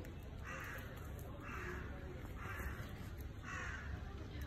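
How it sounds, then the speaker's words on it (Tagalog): Four harsh caws from a crow among trees in Niigata, evenly spaced and somewhat distant, over a constant rumbling background of wind or traffic noise. "yung mga puno, may naririnig akong ibon. Uwak."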